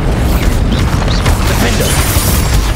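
A Bombarda explosion spell in the video game Hogwarts Legacy, heavy booming blasts with crashing impacts amid a loud, dense wash of combat noise, with a voice briefly heard.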